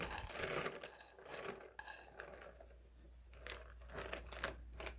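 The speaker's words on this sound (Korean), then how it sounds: "여기 준비했던 이 냄비 속에 이제 조금씩 부어서 펼쳐줍니다." Drained soaked soybeans are poured into a pot in short bursts, a close, rattly clatter and crunch against metal with scraping between pours.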